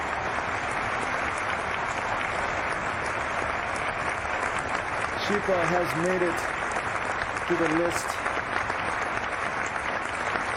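A canned applause effect plays during a Neofly flight-sim livestream, a steady wash of crowd clapping running the whole time beneath someone talking.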